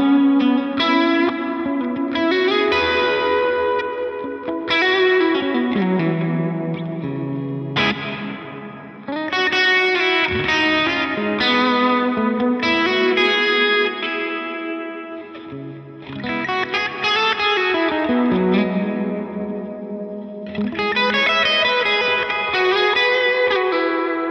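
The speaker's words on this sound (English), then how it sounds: "compare that to if we had the pre-delay over at the other extreme of 200 milliseconds" Guitar through an effects chain with reverb set to a 200 millisecond pre-delay, with distortion and chorus colouring it; a steady stream of strummed chords and lines washes into a lingering reverberant tail for over twenty seconds, loud and unaccompanied by speech.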